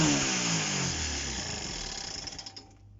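A Honda CB125 RS motorcycle engine runs rough with its exhaust loosely fitted. It drones unevenly, then sputters and spits in irregular pops before dying away into quiet near the end.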